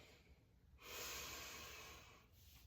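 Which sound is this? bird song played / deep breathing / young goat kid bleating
deep breathing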